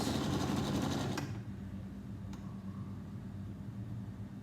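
A sewing machine double-stitches heavy curtain fabric where a loop is attached, buzzing loudly and steadily up close for about a second before it stops, leaving a quiet room with a faint click.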